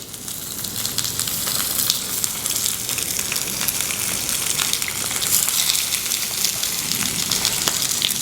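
A cabbage wedge sizzles steadily in a hot oiled pan, a loud, continuous crackling hiss with dense fine pops, close up and alone without talk.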